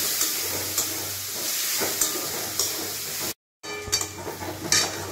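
Spices and chopped tomatoes are stirred in a pot for a mutton curry, a steady close sizzle and hiss with occasional scraping knocks, briefly cut out by a short gap before resuming.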